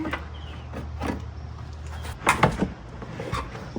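A plastic trunk trim panel on a Saab 9-3 convertible is prised off its push-type rivets, giving a short cluster of sharp clicks and pops over a low background hum, close and fairly quiet.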